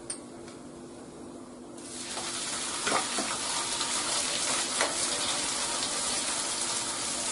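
Cumin seeds are dropped into hot oil and begin to sizzle, a sudden crackling hiss that starts partway in and continues steadily, with small pops, close to the pan.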